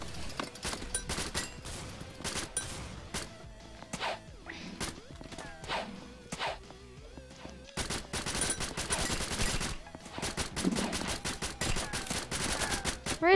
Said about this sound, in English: Tommy gun, yes. I like these.